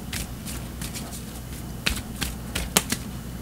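Tarot cards are shuffled and drawn: a run of crisp flicks, riffles and sharp snapping taps close by, with a few louder card slaps toward the end.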